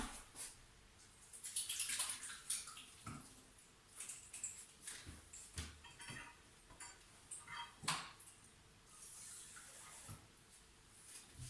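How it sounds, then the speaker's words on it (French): Fingers are rinsed under running water while making Alsatian fleischnackas, a faint, continuous splashing stream with irregular patters and small clinks in a kitchen sink. "Je vais juste me rincer les doigts."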